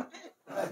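A man clears his throat twice, deliberately and from the belly, two short guttural bursts separated by a brief pause, close and fairly quiet.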